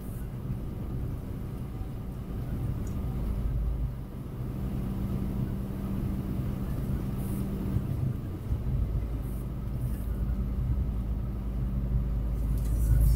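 A truck trailer with a broken center pin driving on the BR-364 highway, a continuous low engine and road rumble with steady tire noise, heard from inside the cab.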